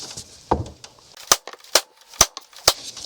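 Sharp metallic bangs from striking a stuck plunger out of a Cadillac 472/500 V8 hydraulic lifter, about six hard, irregularly spaced knocks close up with quieter taps between them.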